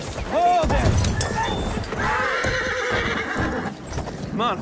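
Horses in a cavalry battle video game neigh and whinny loudly over a rush of clip-clopping galloping hooves, close and intense, with voices shouting through the chaotic fight.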